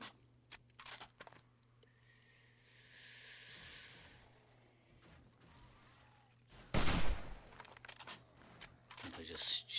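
Gunfire in the video game 7 Days to Die sounds as one loud, sharp burst late in the clip, with quieter game sounds and a voice talking intermittently around it.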